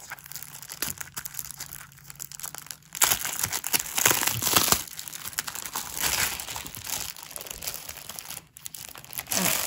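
A crinkly plastic package rustles and crackles as it is handled and pulled open. The loud crumpling keeps going in surges for several seconds, with a few brief pauses.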